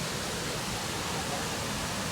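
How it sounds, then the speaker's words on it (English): Düden Waterfalls in Antalya roar as a dense, even wall of rushing water, loud and constant across the whole short stretch with no breaks. "to see this waterfall again. Such an amazing place to be."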